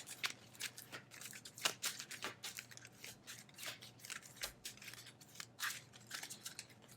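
A deck of Legendary Marvel game cards is shuffled by hand, producing a rapid run of crisp, papery riffling snaps and flicks, close and fairly quiet, with no talk.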